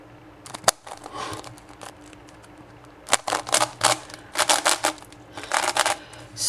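A pillowed QJ 4x4 puzzle cube is turned by hand, its plastic layers giving quick bursts of clicking and clacking turns, with pauses between clusters, close and fairly loud.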